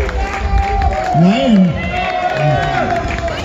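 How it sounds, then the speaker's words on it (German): A crowd at a dance performance claps and cheers steadily, a loud hall of applause with a voice speaking over it. "Nochmal einen riesen Applaus."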